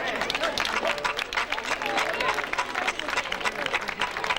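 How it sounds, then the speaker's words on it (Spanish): Festival crowd applauding as a tribute, dense continuous clapping mixed with some crowd murmur, fairly distant and steady. "Un aplauso para él."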